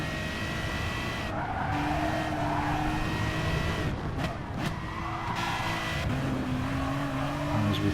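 Aston Martin DBR9 race car in Gran Turismo Sport, its engine droning and shifting pitch as it drops into second gear through a pair of corners, with tires squealing and skidding throughout.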